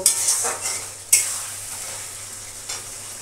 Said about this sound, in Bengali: দেখো পনিরগুলো দিয়ে আমার ভালো করে কষানো হয়ে গেছে, এইবার একটু ঝোল দিয়ে দেব।